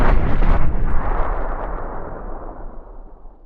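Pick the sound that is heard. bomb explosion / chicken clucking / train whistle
bomb explosion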